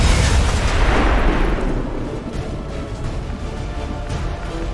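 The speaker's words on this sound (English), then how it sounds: "I'm still afraid Mox is going to be instantly killed by the explosion." Deep booming explosion in the video game XCOM 2: War of the Chosen, loud at the start with a heavy low-end blast, then a rumbling, crackling tail that fades but lingers.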